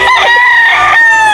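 A 5K sweater gamefowl rooster, pure-bred from Red Game Farm, lets out one loud, close, drawn-out crow that fills the whole moment.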